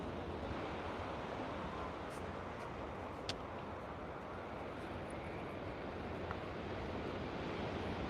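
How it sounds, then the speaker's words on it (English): Ocean waves roll onto the oceanfront shore at San Diego, a steady, soft wash of surf that fills the whole stretch with faint wind noise. "Those ocean waves rolling in."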